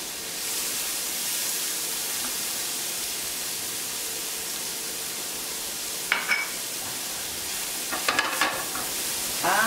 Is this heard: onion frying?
yes